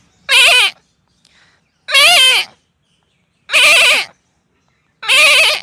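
A man mimics a goat with four wavering, quavering bleats at steady intervals, loud and near, with silence between them.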